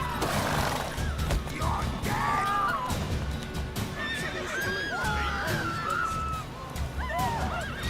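Horse in the video game The Witcher 3 neighing and whinnying repeatedly, with loud descending squeals over clattering hooves and background game noise.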